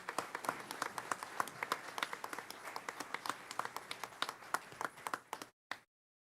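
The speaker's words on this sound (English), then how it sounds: "So let's give them a round of applause." Applause at a school board meeting, a sparse scattering of individual claps in an uneven rhythm, fairly near and moderately quiet, ending abruptly with one last clap.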